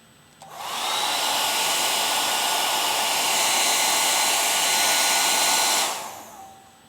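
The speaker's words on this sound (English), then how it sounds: "you can now blow your skin dry" A hair dryer switches on and blows steadily at close range for about five seconds before shutting off, a loud even whoosh with a faint whine, used to dry the face.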